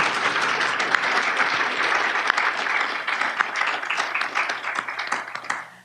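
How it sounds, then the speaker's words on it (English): Audience applause in a lecture hall honoring the donors who endowed a mathematics lecture series, a dense sustained clapping from many hands that stays steady and loud before tapering off at the end. "give a big round of applause to them for endowing this lecture series"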